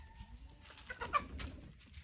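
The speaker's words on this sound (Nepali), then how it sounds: "भाले" A rooster being chased and caught on a farm gives brief clucking calls over low rustling and scuffling, with one sharper squawk near the middle of the short stretch.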